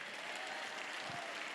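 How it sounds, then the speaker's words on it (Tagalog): A church congregation applauding during a worship service on the infilling of the Holy Spirit, a steady, fairly faint wash of clapping with no break for the whole moment. "Pwede pong palakpak po lahat ng puspos."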